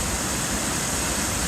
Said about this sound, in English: a good 30 foot of waterfall drop